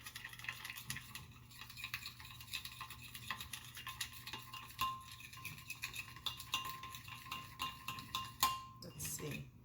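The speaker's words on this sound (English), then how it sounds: "Give it a little stirring" A spoon stirs a honey Dijon mustard glaze with a splash of lemon in a small bowl or pan, faint light clinks and scraping ticks repeating in an uneven rhythm, quiet and close.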